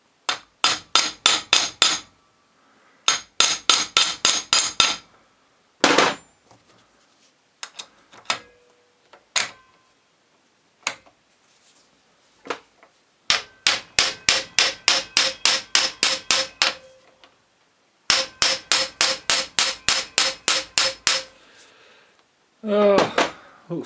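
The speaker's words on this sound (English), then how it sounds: "Let's just bang that in there." Rapid hammer blows on a Subaru Impreza alternator bearing, loud and close, coming in repeated bursts of about eight to twelve evenly spaced strikes with short pauses and a few single taps between them.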